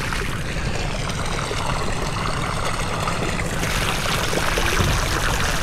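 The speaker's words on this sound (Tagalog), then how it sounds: "Yan, yung talungan, naging tapunan ng tubig." Water spills over a drop into a channel, making a continuous broadband rushing and splashing that stays even and fairly close throughout, with no talk over it.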